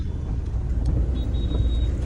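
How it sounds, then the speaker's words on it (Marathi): Heavy road traffic heard from inside a moving car, a constant low engine and road rumble with a faint thin whine above, no talking. "फुल ट्रॅफिक आहे बघा"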